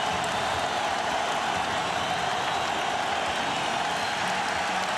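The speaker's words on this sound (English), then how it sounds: "Everybody up at the Staples Center." Large arena crowd at the Staples Center during Game 6 of the 2000 NBA Finals, Lakers against Pacers, roaring steadily as a dense, continuous wash of cheering and applause throughout.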